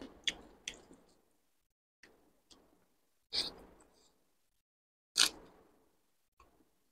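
Someone eating Katla fish curry with rice, raw onion and lemon: a few soft, wet squishes and chewing bites in a quiet room, spaced irregularly with brief pauses between mouthfuls.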